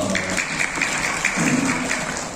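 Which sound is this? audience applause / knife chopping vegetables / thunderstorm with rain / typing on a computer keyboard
audience applause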